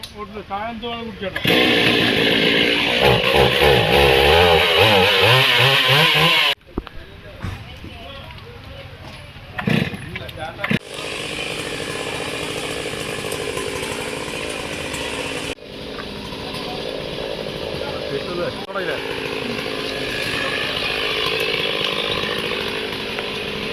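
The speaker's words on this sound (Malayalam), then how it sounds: "മലപ്പുറം ഫയർഫോഴ്സ് സംഘമെത്തി മരം മുറിച്ചു മാറ്റി" A Malappuram fire force crew cuts up a tree that fell at the civil station in strong wind and rain. A chainsaw roars loudly at first, then talk continues over a quieter background.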